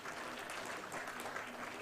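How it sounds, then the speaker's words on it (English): Sustained applause from a conference audience at a felicitation ceremony in Bangalore, a steady dense wash of clapping heard faintly and at a distance for under two seconds. "Please put in a big round of applause."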